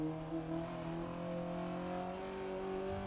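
Rally car engine in Dirt Rally 2.0 holding a steady, loud drone with layered harmonics and a slight rise in pitch, running continuously alone throughout.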